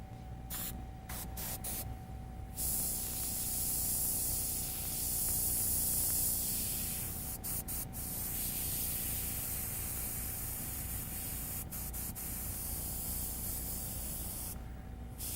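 An airbrush sprays transparent red iron oxide paint in a continuous, steady hiss, with a few brief pauses and changes in pressure, close and fairly loud with no voices.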